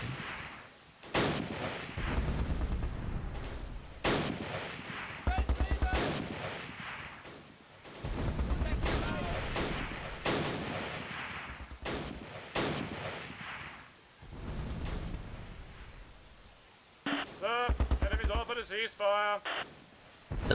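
Gunfire and explosive blasts from machine guns and mortars in the Close Combat wargame, set at Arnhem, bursting repeatedly throughout, with someone talking over much of the action.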